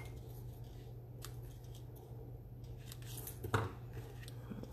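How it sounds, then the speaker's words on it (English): Paper snips trimming small paper pieces for a stamped and die-cut leaf card, quiet scattered snips close up over a low steady background hum, with one louder cut near the end. "with our scissors,"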